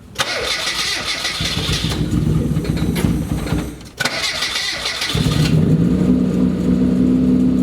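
A car engine cranks and catches, revs briefly, cuts out, then starts again and settles into a steady idle, loud and close.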